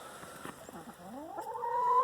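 A chicken in a backyard coop gives rising, drawn-out clucking calls that swell louder toward the end, close by, with no talking over them.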